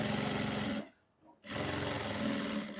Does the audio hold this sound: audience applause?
no